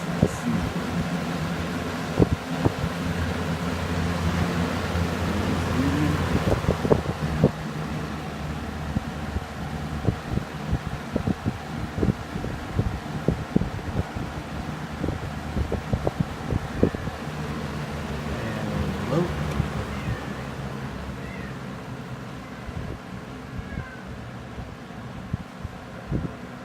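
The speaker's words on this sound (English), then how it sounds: "on low, though it runs kind of fast, you can hear that motor whine" A 1982-83 Galaxy Model 3746 20-inch box fan with thermostat runs on its low setting, giving a steady close motor whine and whooshing airflow with scattered knocks and clicks throughout.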